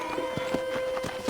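A horse's hooves clip-clopping at a steady walking pace in Red Dead Redemption, evenly spaced hoofbeats over a constant tonal background hum.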